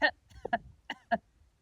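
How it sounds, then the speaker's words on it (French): Several short, breathy expulsions come in an uneven series of about five bursts, close and fairly quiet, produced as a deliberate demonstration of coughing with sharp exhalations. "Vous savez, quand vous toussez, vous faites"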